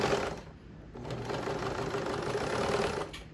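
A serger runs steadily, sewing elastic along the edge of swimsuit fabric with a continuous, fairly quiet mechanical whir that dips briefly before resuming.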